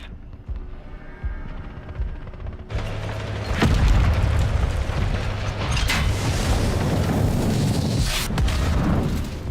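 Missile explosions in Call of Duty Modern Warfare 3: a quiet mechanical hum gives way to a loud rumbling boom, followed by sustained roaring blasts and further sharp impacts, alone without talk.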